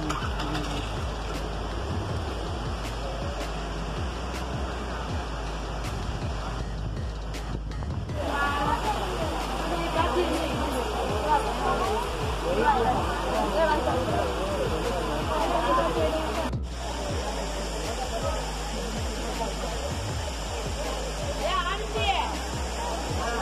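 Water pouring down Courtallam's old falls makes a steady, broad roar, with voices of a crowd of people mixed in throughout.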